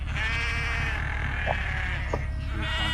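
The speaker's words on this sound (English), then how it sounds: "those are definitely sheep" Sheep bleat in a long, wavering cry close by, followed by shorter bleats, over a loud low rumbling background.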